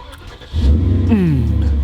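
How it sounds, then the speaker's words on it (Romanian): A Porsche engine cranks and catches, then settles into a loud, steady idle as it begins to warm up, heard up close. "o să pornim motorul, să vedeți, să lăsăm să se încălzească"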